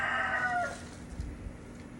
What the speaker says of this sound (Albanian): po na valaje gjeli edhe mund të vazhdoj